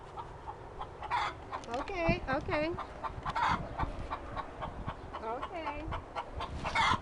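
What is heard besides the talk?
rooster crowing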